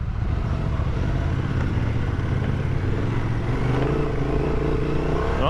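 A 2024 Honda Transalp motorcycle engine drones loud and close while riding, its pitch climbing steadily under acceleration amid wind rush.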